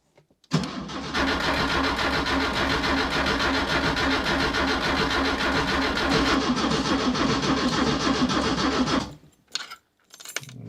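A Skoda 105S with a nearly empty fuel tank cranks on the starter as the key is turned, a loud, steady, rhythmic churning that lasts about eight seconds without catching, then cuts off.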